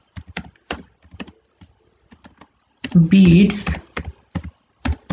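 C++ code typed on a computer keyboard, close irregular clicks of keystrokes in quick bursts with pauses, briefly interrupted by a short spoken word mid-way.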